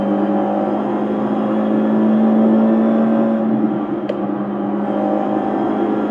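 An F4 race car in the iRacing sim holds a steady engine drone with a strong whine, dipping briefly as it downshifts, loud and continuous with no talking.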